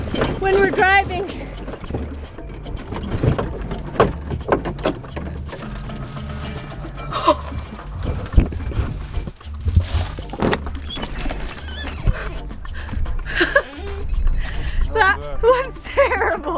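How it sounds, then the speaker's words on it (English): Interior of a 13ft Scamp trailer under tow, with continuous road rumble and loud clattering and banging of loose contents in the cupboards, mixed with voices talking and exclaiming. "So this is what it's like in the Scamp when we're driving."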